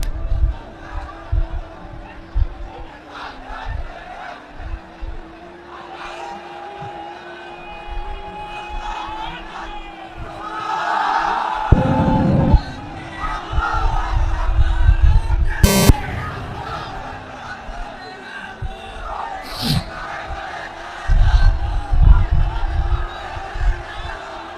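A large crowd at an outdoor Islamic sermon gathering in Lalmonirhat roars takbir responses back to the preacher in loud, surging bursts over a PA-amplified hall of noise, with the preacher's voice heard between the shouts.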